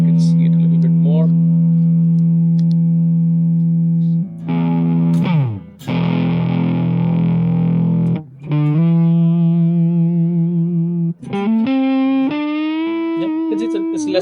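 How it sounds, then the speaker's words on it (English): Clean electric guitar, a 2019 PRS McCarty 594 Hollowbody II, with a warm, round neck-pickup tone, playing sustained notes and short melodic phrases alone, with brief pauses between runs. "it's a Les Paul neck sound."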